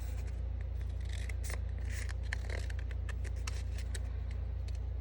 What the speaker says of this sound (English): you're just going to take your scissors